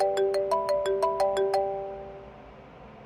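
A mobile phone rings for an incoming call, a bright melodic ringtone repeating short tonal notes for about a second and a half before fading out, alone with no talk.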